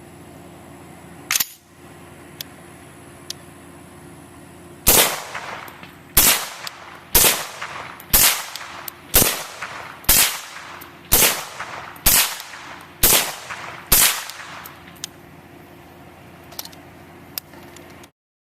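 A Kestrel AK fires 7.62x39 rounds in a string of about ten sharp, evenly spaced shots, each a loud crack with a short decay, preceded by one isolated shot.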